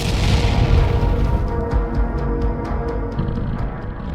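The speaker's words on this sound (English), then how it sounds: "A sharp explosion erupted in the middle of the formation, sending dirt, debris, and fragments into the air." A battlefield explosion from an FPV drone strike on infantry in an open field, heard as a sustained loud low rumble with repeated sharp cracks layered on top, near and dense throughout.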